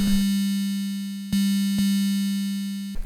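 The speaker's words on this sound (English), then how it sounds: "3 bits sine wave" A steady, low 3-bit sine wave tone from a Volca Sample 2 synth holds throughout, briefly interrupted by a couple of quick clicks as it retriggers.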